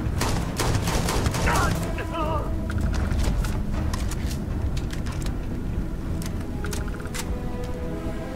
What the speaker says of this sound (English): Knee shot! What? Shooting through his leg.